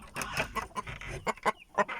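Chickens and a rooster cluck in a coop, a run of short, close, uneven clucks and squawks with brief pauses between bursts.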